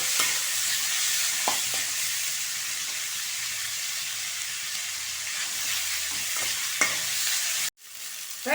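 Tomatoes stirred into onions frying in a pan for homemade noodles: a steady close sizzle with soft scraping stirs throughout, then a brief dip in the noise near the end.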